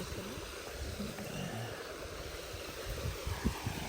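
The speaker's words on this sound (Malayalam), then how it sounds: "ആർട്ടിഫിഷ്യലായിട്ടുള്ളൊരു വെള്ളച്ചാട്ടം." A small artificial waterfall with little water flowing, in Al Bahah, gives a faint, steady rushing and splashing wash heard from a distance with no talk.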